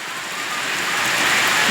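Rain falls in a steady, fairly loud hiss that swells slightly over a brief stretch, with no voices.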